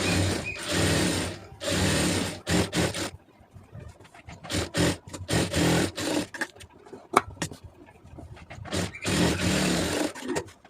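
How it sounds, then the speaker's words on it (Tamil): Sewing machine stitching a two-layer blouse lining, bursts of rapid mechanical whirring separated by short pauses and light clicks, close and steady, with no talking. "அப்படியே மடித்து ஒரு படிமான தையல் போட்டுருங்க"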